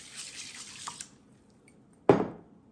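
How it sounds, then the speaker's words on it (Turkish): Warm foot-soak water in a basin being stirred after sea salt is added: soft drips and trickles, then a single sharper splash and slosh near the end, close and alone. "Güzelce karıştırıyoruz."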